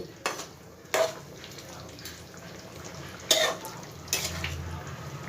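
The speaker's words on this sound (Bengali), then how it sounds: "ভালো করে একটু ঝোলের সাথে মাছগুলো মিশিয়ে নেব।" Fried mourala fish being stirred into a simmering curry gravy for Bengali mourala macher jhal, with a few sharp, scattered scrapes and knocks of a spoon against the pan over a quiet, low bubbling.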